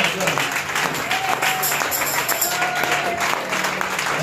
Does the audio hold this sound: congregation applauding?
yes